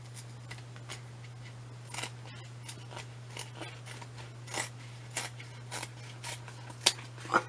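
Scissors snipping through fabric during a sewing project, a series of short crisp cuts scattered irregularly and growing slightly louder toward the end, close by over a steady low electrical hum.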